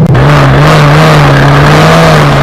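Historic Formula Ford single-seater racing cars rev their engines loudly together at the start of a race at Donington Park, a dense, sustained buzzing drone holding steady throughout with no voices.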